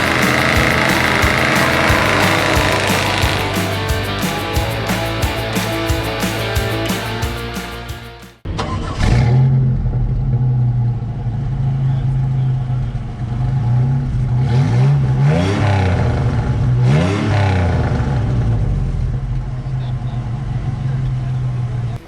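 A supercharged 1985 Chevy S10 Blazer engine revs loudly and close, a sustained roar that cuts off abruptly partway through, then rumbles again at a lower, steadier level.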